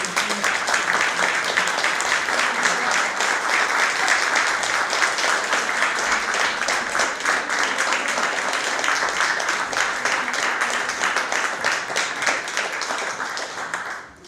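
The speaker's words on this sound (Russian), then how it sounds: "Давайте аплодисменты" Dense, sustained applause from a concert-hall audience at a memorial evening for a composer, honouring a professional vocalist, loud and steady for many seconds before tapering off at the end.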